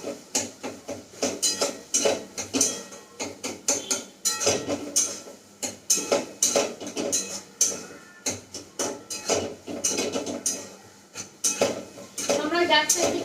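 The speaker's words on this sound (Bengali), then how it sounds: "কমপ্লিটলি ভেজিসগুলোকে আমরা এখন কষাচ্ছি" Vegetables stir-fried with ginger in a pan over high heat, sounding as rapid, rhythmic clanks of a metal spatula scraping and knocking the pan, loud and close, repeating in quick bursts throughout.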